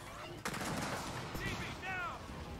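Gunfire in a shooter video game: a sharp shot lands early, followed by a dense stretch of game noise and shooting effects, with voices in the game heard over it.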